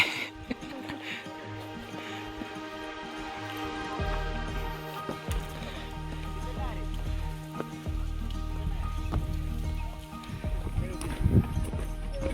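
Steady rain falling and pattering on surfaces during a trek up Rajgad fort, with a low rumbling hum underneath and occasional knocks.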